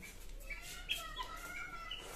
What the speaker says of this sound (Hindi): यहाँ पे और दो मुर्गी जो कि अंडा दे रहे हैं